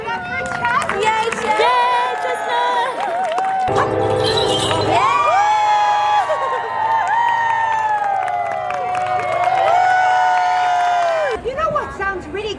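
At a renaissance fair, spectators cheer for Chestnut, with loud overlapping shouts, whoops and some clapping from a nearby crowd, children's voices piercing through, and a lively roar that stays strong until a sudden drop near the end.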